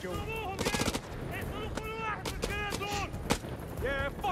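Rapid bursts of gunfire from the House of Ashes video game, with a dense automatic volley early on and further scattered shots, while voices and other game sounds carry on throughout.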